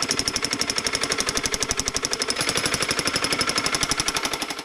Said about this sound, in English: So I've gone and got myself a much bigger drill.